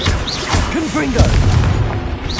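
A Confringo explosion spell in Hogwarts Legacy bursts in loud, rumbling booms that fill the short moment, layered with chaotic game effects and a voice talking over them.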